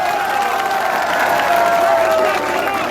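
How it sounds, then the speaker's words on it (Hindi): Village crowd at a political rally clapping and cheering to welcome a BJP candidate, a sustained broad roar of applause with some shouting mixed in, loud throughout. "जोरदार तालियों के साथ स्वागत।"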